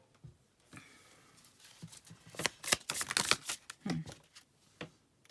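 A Shaman oracle card deck shuffled by hand, a close run of quick riffling snaps and slaps that swells into a dense flurry mid-way, then tapers into scattered soft taps.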